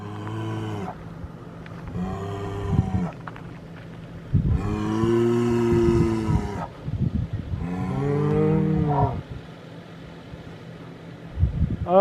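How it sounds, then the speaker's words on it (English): A full-size bull in North Dakota lows several times in long, loud, drawn-out moos, close by, with short quiet gaps between the calls. "That is a full-size bull right there. He's not happy with me."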